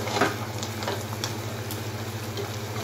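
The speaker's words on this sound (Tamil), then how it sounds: "இப்போ வந்து நடுவில் கொஞ்சம் கிண்டி விடுங்க" Crab fry (nandu varuval) sizzles in a pan while being stirred, with a steady low hum underneath and light scraping clicks from the spoon, close up and without talk.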